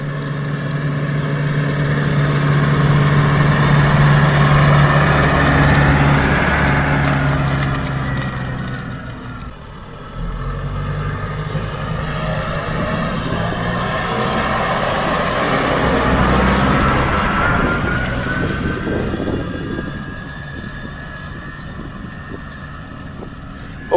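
A tractor pulling a rotary hoe through soil drones steadily and loudly, its engine note swelling as it approaches and passes close by.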